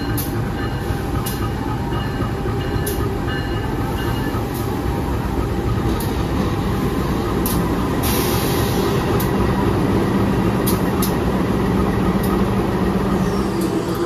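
Steady interior rumble of the Kahuripan passenger train at Kertosono station in Indonesia, with continuous low mechanical noise and scattered faint clicks and knocks throughout.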